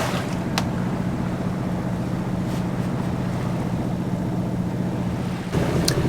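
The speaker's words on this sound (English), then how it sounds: "The engine's been on all day now." Engine of a 36-foot Beneteau sailboat running at sea on a passage to New Zealand, a loud steady low drone with a constant hum under wind and water rush, a few faint clicks and a brief dip near the end.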